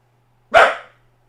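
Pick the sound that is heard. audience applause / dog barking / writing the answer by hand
dog barking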